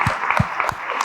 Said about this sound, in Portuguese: Salva de palmas para o Rafa, gente.